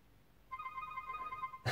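A Nubia Z20 smartphone plays its ringtone, a steady electronic tone pattern lasting about a second, fairly quiet and heard alone.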